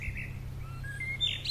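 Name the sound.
birds chirping in distant trees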